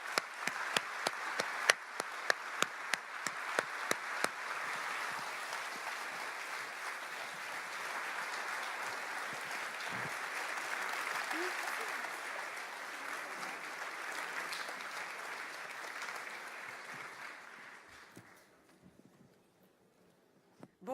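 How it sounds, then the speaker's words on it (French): Convention crowd at a Génération.s gathering applauds Elly Schlein of Possibile, opening with scattered sharp claps that swell into long, dense applause before fading to near silence. "je vous demande d'applaudir bien fort Elly Schlein"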